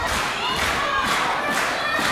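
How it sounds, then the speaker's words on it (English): A wrestling crowd at a live show cheers and claps in a continuous wash of noise, with rhythmic clapping pulses running through the roar. "The fans are cheering for Sean Carr."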